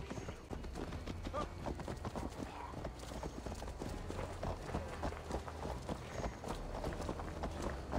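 Horse hooves gallop in a fast, steady clip-clop rhythm in Assassin's Creed Valhalla, loud and close throughout over a low game soundtrack, with no speech.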